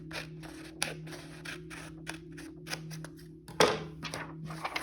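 Scissors snip through material cut to a measured square, a run of short crisp closing clicks repeating close by, with a louder scrape near the end over a steady low background hum.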